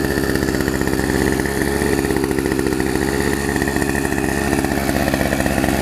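A Poulan Pro 18-inch two-stroke chainsaw engine runs steadily close by, a loud, continuous buzzing drone with no pauses and no voices.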